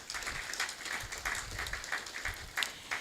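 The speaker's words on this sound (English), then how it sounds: "Please, a round of applause for her." Audience applause at a sustainability program event, a steady patter of many hands clapping at moderate volume, with a faint room tone beneath and no talking.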